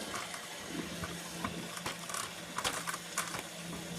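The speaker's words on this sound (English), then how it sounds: "you can see that water is coming out. And what it does, pumps all the old water out." A machine pumps old water out, producing a steady gushing, splashing flow of water with a low constant hum beneath it, continuous and fairly close throughout.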